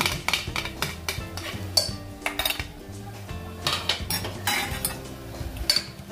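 Fried beef koftas are stirred into masala in a metal pot, the spoon clinking and scraping against the sides in quick repeated strokes over a steady low background hum, with no talking.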